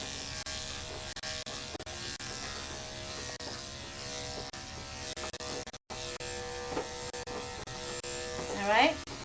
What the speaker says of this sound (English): Just having the clipper do most of the work for me.